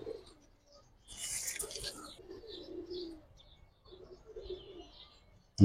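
Giribaz and coloured pigeons coo softly in bursts, with a flutter of wings early on, occasional chirps, and a loud thump at the very end; someone talks faintly in the background.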